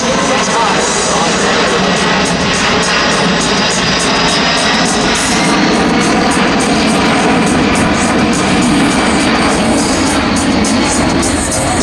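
A USAF C-17 military transport roars past at an airshow, a loud continuous broadband jet rumble and whine that holds steady and swells slightly as it approaches, with crowd noise faintly underneath.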